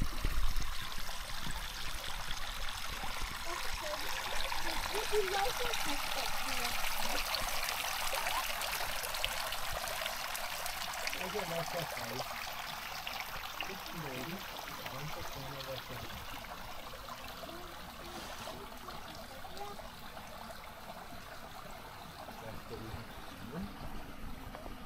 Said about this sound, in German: Das ist ein Bach von oben oder ist ein reiner Quellbach